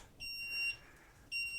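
A Solax Transformer mobility scooter sounds an error code: high electronic beeps, one sustained tone about half a second long, then a pause, then another beep starting, moderately loud and alone.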